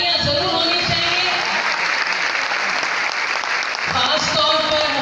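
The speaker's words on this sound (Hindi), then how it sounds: "तो पहले तो मैं उन तमाम मौजूद हस्तियों के लिए चाहूँगी कि भरपूर तालियां ज़रूर होनी चाहिए।" Hearty applause fills the hall at a silver jubilee gathering of a community association, sustained clapping from many hands with a voice speaking over it at the start and again near the end.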